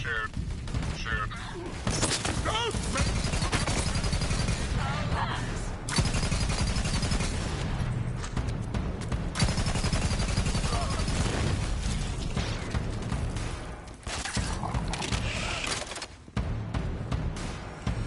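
Borderlands 3 firefight with continuous dense gunfire and automatic weapon bursts over a loud game soundtrack, sustained for the whole stretch.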